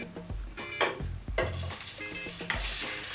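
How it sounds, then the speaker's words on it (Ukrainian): Cheese sizzles and crackles in a hot pan while a utensil clinks and scrapes against the pan several times, close by and fairly quiet. "будемо смажити сир"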